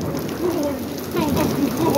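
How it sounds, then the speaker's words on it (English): Hail bounces and patters across the ground during a February thunderstorm, a steady, close, rain-like clatter that runs throughout while a voice is heard over it. "there's hail bouncing around"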